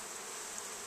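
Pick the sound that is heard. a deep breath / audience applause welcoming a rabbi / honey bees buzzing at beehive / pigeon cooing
honey bees buzzing at beehive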